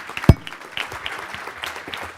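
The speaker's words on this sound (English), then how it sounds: "a great round of applause to our panelists" An audience at a Brussels research conference applauds the panelists after their session. The clapping is moderate and somewhat distant, opening with one sharp knock, with no one speaking.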